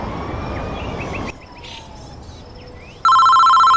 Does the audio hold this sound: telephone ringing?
yes